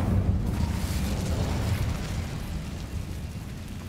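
An Incendio fire spell is cast in Hogwarts Legacy, producing a rumbling, whooshing burst of flame that stays dense and heavy throughout and fades slightly toward the end.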